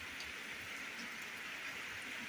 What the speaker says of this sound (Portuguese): Bastante chuva, graças a Deus.